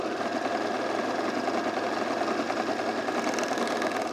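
A serger runs steadily at speed, stitching the seams of pajama pants; its dense mechanical whir and rapid needle clatter stay loud and continuous throughout.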